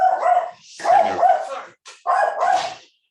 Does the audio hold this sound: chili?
no